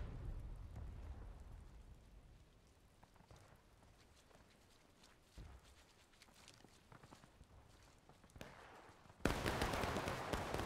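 Thunderstorm rain in the Civil War shooter War of Rights on the Wheatfields map: a faint, steady wash of rain with soft scattered footfalls, then a much louder, hissing downpour surge near the end.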